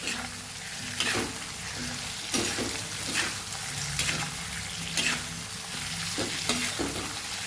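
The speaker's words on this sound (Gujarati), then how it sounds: "લસણને એ આદું ને બધું કાચું ન રહે એટલા માટે એને સરસ આપણે સાતળી લેવાનું છે બટેકા સાથે" Garlic and ginger sauté with potatoes in a pan, a steady sizzle broken by repeated scraping stirs of a spoon, close and moderately loud.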